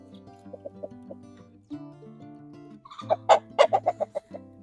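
Bourbonnaise chickens cluck outdoors, soft low clucks early on giving way to a louder, close burst of rapid, sharp calls near the end.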